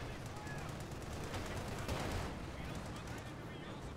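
Loud, dense bursts of Maxim machine gun fire from a World War II tank battle game, rattling continuously, with a heavier blast near the middle and other battlefield din beneath.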